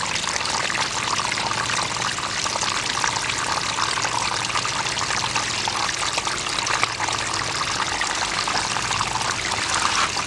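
Water runs steadily through gold panning equipment while red dirt is washed, a continuous close pour and trickle that holds even for the whole stretch with no talking.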